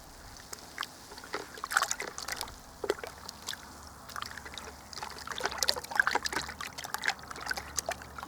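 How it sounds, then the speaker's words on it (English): Water trickling, sloshing and draining as African horned melon seeds are rinsed and swirled, a soft, continuous wet splashing with scattered small drips and pours, fairly close and quiet, with no voices. "Just keep rinsing and swirling and draining."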